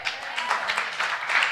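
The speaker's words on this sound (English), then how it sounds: "Yeah, grand applause." Hall audience clapping after a young girl's presentation at a family commemoration event, a brief dense patter of many hands that holds steady through the short moment.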